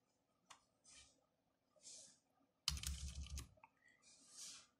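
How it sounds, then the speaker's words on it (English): Typing on a computer keyboard during 3D software work: a few short bursts of key clicks, then a denser flurry of rapid keystrokes, close and quiet with no talk. "So I'm gonna type in"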